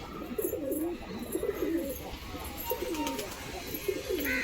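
High-flying pigeons in a loft coo in soft, overlapping rolling calls that repeat throughout, close and fairly loud, from several birds at once over a light background hum.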